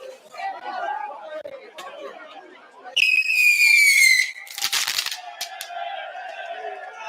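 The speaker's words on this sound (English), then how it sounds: "They do fireworks." Fireworks at a Fourth of July style event: a rising whistle followed by sharp crackling bursts, loud against background chatter of people.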